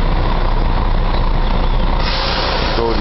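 A Comil Campione DD double-decker bus maneuvers in a garage yard, its engine rumbling loud and close with a hiss of air brakes and a faint beeping near the end.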